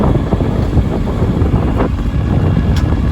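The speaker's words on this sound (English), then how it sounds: "As this squall line comes through, you can already see the wind and the seas picking up." Wind and rough seas on a boat as a squall line passes, a loud, constant roar of wind buffeting the microphone over churning water, with no speech.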